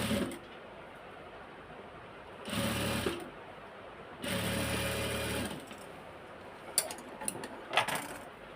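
A sewing machine stitching a garment runs in two short bursts, one around half a second and a longer one of over a second, each a steady close whir, separated by quiet handling and a few light clicks near the end.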